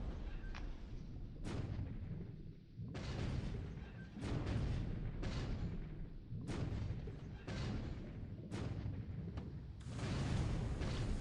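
Naval gunfire and shell explosions in the War in the Pacific: Admiral Edition strategy game, a rapid series of loud booming blasts and bursts, closely spaced with brief gaps, heavy and rumbling throughout.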